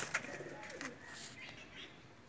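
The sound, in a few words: Neel Dumma home-bred Pakistani pigeons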